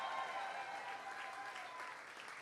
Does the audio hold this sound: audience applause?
yes